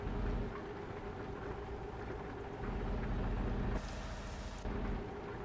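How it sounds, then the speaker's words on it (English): Steady rain in the trucking game TruckersMP on Euro Truck Simulator 2, a dense continuous hiss over a low engine rumble, with a brief brighter surge of spray partway through. "If it gets dark when it's like this, we're going to turn off the rain"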